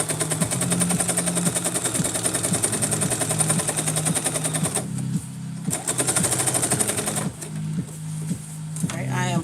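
A sewing machine stitching a seam on a McCall's 8193 garment runs in fast steady bursts of rapid needle clatter and motor hum, stopping briefly twice before starting up again.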